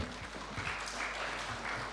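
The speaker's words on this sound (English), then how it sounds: "I think it deserves another round of applause." Attendees at a plenary session of a non-revenue water conference give a round of applause, a faint, distant patter of many hands clapping without a break.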